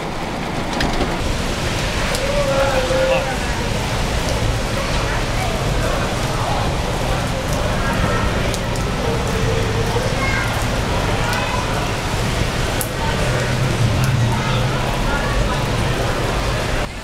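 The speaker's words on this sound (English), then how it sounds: "And then it started raining." Steady rain falls outdoors in Niagara Falls, a continuous close hiss throughout with faint background sounds underneath.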